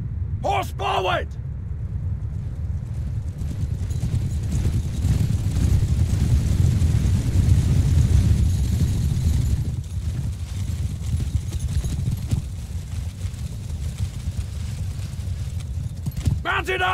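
Cavalry horses gallop in the Mount and Blade video game, a continuous rumble of massed hooves under shouted commands and short bursts of speech at the start and end.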